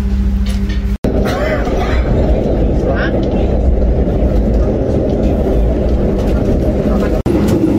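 Loud, constant low rumble inside a moving passenger train, with muffled voices talking over the droning roar and two sudden brief cutouts.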